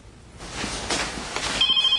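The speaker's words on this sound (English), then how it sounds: "the phone. It rings." A telephone starts ringing with a thin, high electronic tone near the end, following some soft rustling and movement noise.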